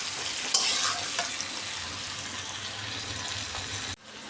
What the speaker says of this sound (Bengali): নুন আর হলুদ দিয়ে ভেন্ডিটা বেশ কিছুক্ষণ ভাজা ভাজা করে নেব